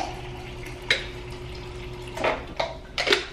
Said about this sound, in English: let me grab some water